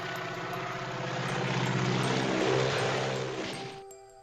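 A helicopter in a film scene, its rotor and engine a loud, steady whirring drone that swells midway and cuts off abruptly just before the end.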